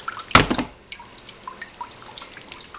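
Water drips from a submersible pump in a 12-gallon reservoir of a recycling aquaponic system, one sharp splashy drop followed by quieter scattered trickling and small drips close by.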